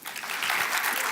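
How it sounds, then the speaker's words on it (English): Audience applause at the FoodBytes Montreal food and agriculture startup event: dense, steady clapping from a crowd that fills the whole moment without a break. "Let's give them a big round of applause, please."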